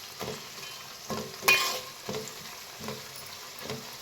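Chopped onions softening over low heat in a pan for fish curry, a quiet steady sizzle broken by regular scraping stirs about once a second, with one louder clatter near the middle.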